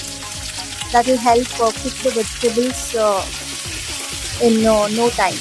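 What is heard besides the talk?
vegetables sizzling in a pan for sambar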